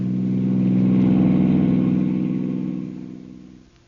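A car engine sound effect from an old-time radio drama hums steadily at mid pitch, swelling slightly and then fading away as the car pulls off, with no voices over it.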